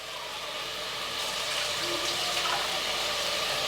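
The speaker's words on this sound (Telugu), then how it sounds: "ఈ శనగపప్పు నీళ్ళన్నీ వంచేస్తున్నా" Water poured off soaked chana dal (split Bengal gram) in a kitchen while making an amaranth-leaf curry, a steady splashing stream running the whole time, fairly close, with no talking.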